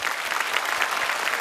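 A short burst of audience applause in a Thai television studio, a dense, even clapping heard close and on its own for just over a second.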